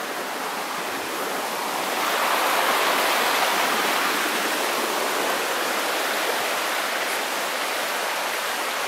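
Stream on a Luxembourg forest trail running high after two days of rain, a loud, steady rush of water that holds continuously throughout with no voices.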